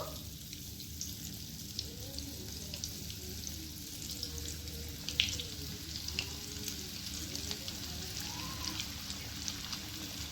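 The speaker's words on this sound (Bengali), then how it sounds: "এইভাবে কিন্তু মিডিয়াম ফ্লেমে আমি ললিপপগুলোকে ভেজে নেব" Egg lollipops deep frying in oil in a wok over a medium flame, a steady soft sizzle and bubbling crackle running throughout with faint light clinks, no talking.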